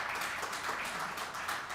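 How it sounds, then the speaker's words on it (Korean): Audience applause at a financial forum, a steady wash of many hands clapping that holds evenly from start to finish with no talk. "다시 한번 이우춘 인터넷신문협회 회장님한테 큰 박수 부탁드리겠습니다."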